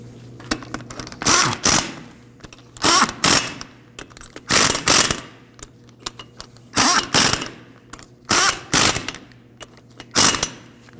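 A hand ratchet snugs down the front outer tie rod bolts on a 1993-2001 Subaru Impreza, with short, loud bursts of rapid clicking that come in pairs with brief pauses between.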